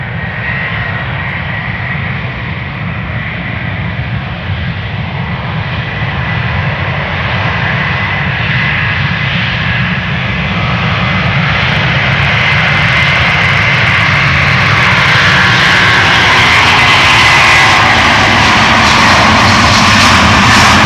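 A 20-year-old Delta Airbus A330-300 jet bound for Orlando thunders down the Polderbaan at Amsterdam Schiphol, its engine roar swelling steadily louder and brighter as it spools up and passes close by, with no talk.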